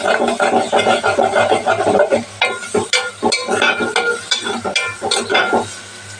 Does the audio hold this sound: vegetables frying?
yes